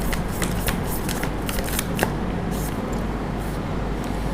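Tarot cards being shuffled and drawn from a deck: a continuous close papery riffling and flicking with sharp snaps of individual cards, steady and fairly loud.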